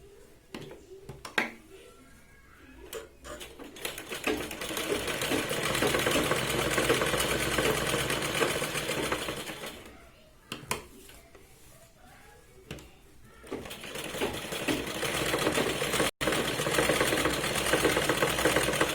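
A sewing machine stitches back tucks on a blouse, up close in bursts of steady mechanical whirring with short pauses between runs of stitching, and no talk over it.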